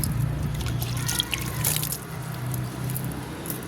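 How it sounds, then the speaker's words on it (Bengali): Water is poured onto a mini tagar (crape jasmine) plant on a rooftop, giving a close, continuous splashing trickle with brief drips and no talking. "এটা মিনি টগর গাছ জল দিলাম একটু"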